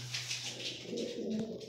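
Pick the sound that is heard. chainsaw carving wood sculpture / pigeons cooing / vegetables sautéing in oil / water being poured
pigeons cooing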